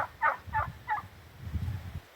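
Several turkeys gobble on a farm, short bursting calls repeating about four times in quick succession at moderate distance, with low rumbling noise underneath.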